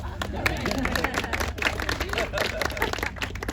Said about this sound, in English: We'll clap for you.